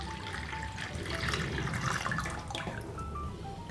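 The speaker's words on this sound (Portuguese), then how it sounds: "E agora eu vou acrescentar 1 litro de leite integral." Whole carton milk being poured into a mixture, a steady close liquid gurgle and splash lasting a few seconds with no talking.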